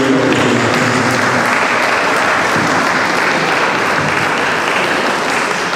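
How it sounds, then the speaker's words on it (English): Loud, dense applause fills an annual general meeting of a university academic staff cooperative society, a sustained close clapping crowd with no pauses. "A round of applause"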